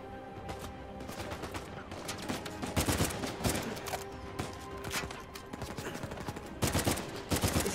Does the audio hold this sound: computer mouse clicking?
no